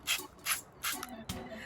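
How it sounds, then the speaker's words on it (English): A hand oil sprayer sends short mists of oil across a bowl of seasoned homemade popcorn. There are four quick, soft hissing puffs, close by and evenly spaced. "with my sprayer, I'm just gonna spray across the top"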